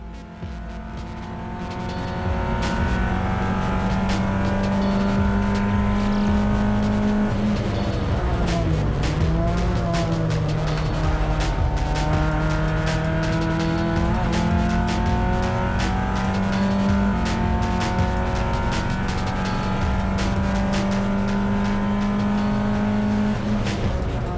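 Race car accelerating on a Western Australian circuit during an Excel enduro race, heard from onboard as a loud, steady engine drone that climbs through gears with shifts, sustained for the whole stretch.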